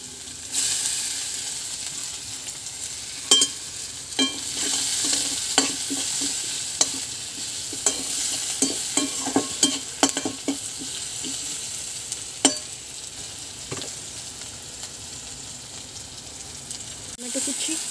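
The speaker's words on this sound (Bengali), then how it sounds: "পেঁয়াজ কুচি দিয়ে দিলাম।" Chopped onion frying in a pan of oil with cumin, bay leaf and dried chilli for a Bengali-style egg curry, a continuous close sizzle broken by repeated sharp clinks and scrapes of a stirring spoon.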